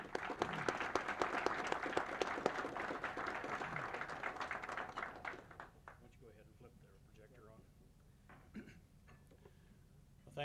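Audience applause at White Sands Missile Range welcomes a guest speaker to a manned Mars mission event: steady, dense clapping from a crowd that fades after about five seconds into scattered claps and quiet room noise.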